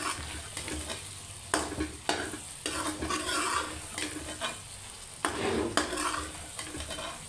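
A spoon stirs spicy egg and onion curry (salan) in a pan, with scraping strokes and soft sizzling from the hot pan in repeated bursts, close and fairly quiet, with no talking.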